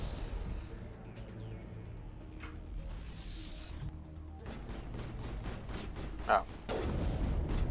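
Mass Effect game gunfire plays as rapid bursts of shots and booms, layered and moderately loud, with a person talking and reacting over the combat.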